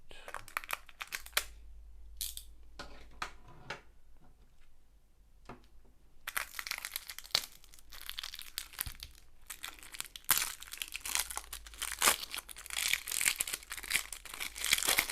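Plastic packaging of a diamond painting kit, opened with a knife, crinkles and tears in bursts of crunchy rustling, with quiet scraping and handling sounds between them, close up.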